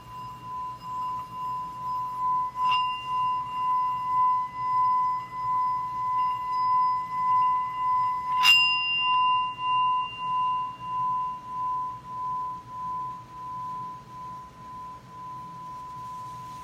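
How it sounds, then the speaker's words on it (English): Singing bowl ringing with a steady sustained tone and clear overtones, struck twice more during the clip and humming on without a break throughout over a soft low background. "These bowls produce amazing tones"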